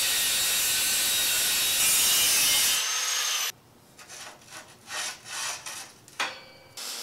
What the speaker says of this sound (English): the first thing we'll do is cut the square tubing to frame it in